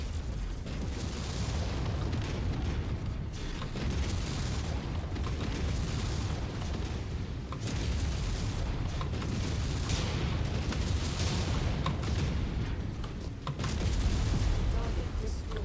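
Explosions in MechWarrior 5 as a target mech is destroyed: dense, continuous booming blasts and crackling bursts stay loud for the whole stretch, with brief dips between heavy impacts.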